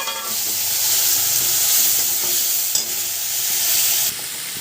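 Onion paste frying and being stirred in a pan for dahi katla fish curry, giving a steady, close sizzle with a faint scrape partway through, with no one speaking.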